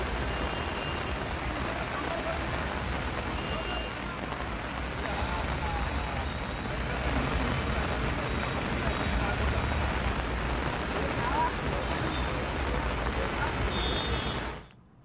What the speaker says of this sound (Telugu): రాజేంద్రనగర్ నియోజకవర్గంలో ఉరుములు మెరుపులతో భారీగా కురుస్తుంది వర్షం